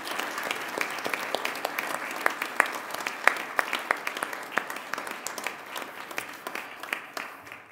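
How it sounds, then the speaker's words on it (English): A church congregation applauds during a 10:30 worship service, a steady wash of many hands clapping with sharp individual claps popping out, sustained and fairly loud throughout, without any speech. "let's welcome them with a warm applause."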